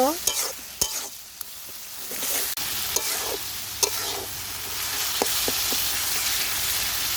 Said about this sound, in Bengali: সব কিছু খুব ভালোভাবে কষিয়ে নিব